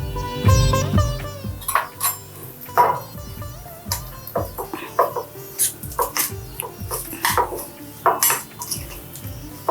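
Spices and ingredients being mixed for mango chutney, with repeated clinks and scrapes of a spoon against a metal bowl or pan, loud and close, irregular bursts of clatter.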